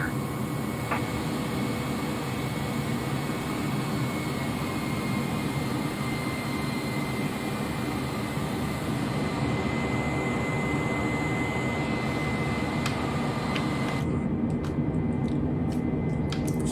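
Aircraft engines droning inside the cabin on a flight from La Palma to Lanzarote, a loud continuous steady roar with a constant high whine, lasting the whole stretch with a few faint clicks near the end.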